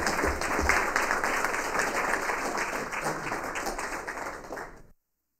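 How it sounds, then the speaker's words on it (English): An audience at a city council meeting claps together in a steady burst of applause that holds for several seconds, then cuts off abruptly. "I want to give those community sponsors a round of applause."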